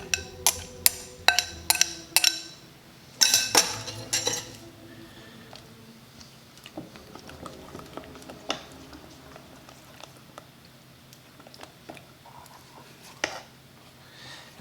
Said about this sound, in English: we just want to stir this until everything is completely melted